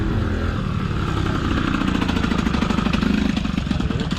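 Tuned moped with a big carburetor and large MBT cylinder kit, running at an outdoor moped gathering, a loud close buzzing two-stroke drone with a rapid pulsing beat that holds steady throughout.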